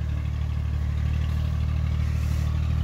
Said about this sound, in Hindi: ट्रैक्टर की ब्रेकें फेल हो चुकी थी, फिर भी वो लेके जा रहे हैं